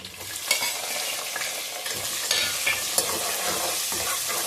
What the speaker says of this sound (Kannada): ಈರುಳ್ಳಿ ಚೆನ್ನಾಗಿ ಫ್ರೈ ಮಾಡಬೇಕು.